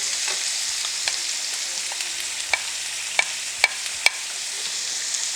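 Spices such as turmeric being stirred into kachori filling in a pan: a steady soft sizzle with several sharp spoon-on-pan clicks near the end, close and moderately quiet, with no talking.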